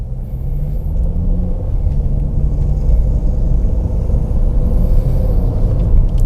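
A 2013 Honda Accord VTi-L engine pulls hard in sport mode, a steady loud low rumble of cabin engine and road noise that holds without a break, with a faint rising hum underneath.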